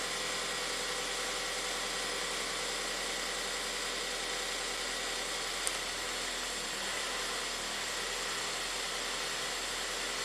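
A Ford EcoBoost engine idling right after starting, despite a surge and stall fault: a steady, close, even hum with a hiss on top, running alone for about ten seconds.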